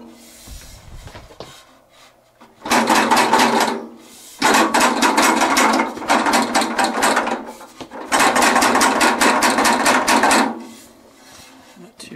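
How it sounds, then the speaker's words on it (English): Newly installed Lippert Solid Step RV entrance stairs rattle and grind in two long bursts of rapid metallic clattering, loud and close, separated by short pauses, with no talking. "the instructions say you should go inside and do a rattle test, make sure nothing's going to come loose."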